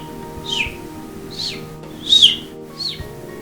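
A voice imitates a baby chicken chirping: four high, thin peeping chirps spaced about a second apart, close and clear over a quiet background.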